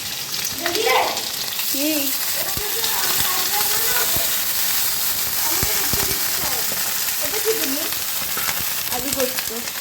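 Boiled eggs, still unpeeled, sit in a hot pan without water and sizzle steadily, with a bright hiss and occasional pops close by while a person speaks briefly.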